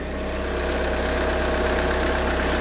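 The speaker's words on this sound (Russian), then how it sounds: "Двигатель работает у нас." A 2012 VW Jetta 2.0 TDI diesel engine idles with the hood open, a steady close rumble with a faint clattering edge and no one talking.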